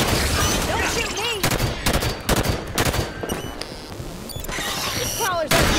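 Heavy gunfire in Halo 5: Guardians fills a battle against Prometheans, with repeated loud bursts and sustained automatic fire up close, mixed with other weapons, explosions and shouted voices.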